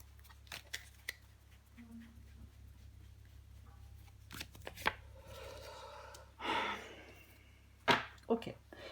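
Tarot cards being shuffled, handled and drawn: scattered soft slaps and riffling flicks, a few sharper snaps near the end, close and fairly quiet with little else around.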